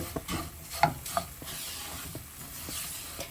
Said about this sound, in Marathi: हे सगळं परत मिक्स करून घ्यायचं